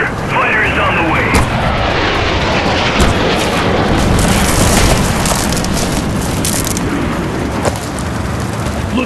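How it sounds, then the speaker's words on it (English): Airstrike explosions in the Android game Tank Race WW2, a dense, loud barrage of booms and artillery-like blasts rumbling continuously, with a voice talking over the din. "Click on the aircraft button to call airstrike."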